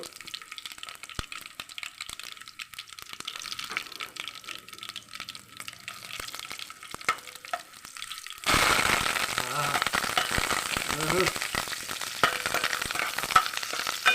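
Dried red chillies and curry leaves sizzle in hot oil, starting as quiet clatter and water-like noise before a sudden louder burst of frying that carries on steadily, with faint stirring.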